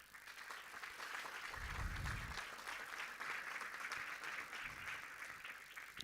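An audience at a world congress on violence against children gives applause, a faint, even wash of distant clapping sustained across the whole stretch, with a brief low thump early on.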